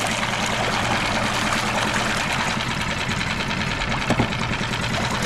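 A running outboard motor in forward gear holds a steady, dense mechanical drone with a watery churn beneath it, loud and continuous throughout, with no speech over it.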